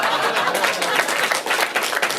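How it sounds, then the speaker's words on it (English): Dense studio audience applause, steady and fairly loud, a wash of many hands clapping at once with no talking over it. "If you applaud too much, they will actually make it."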